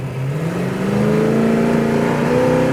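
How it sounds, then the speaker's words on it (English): A 1970 Super Bee's 426 Hemi engine revs hard during a tire-spinning burnout and climbs steadily in pitch, roaring continuously with a rough, whirring edge throughout. "Just roasting the tires."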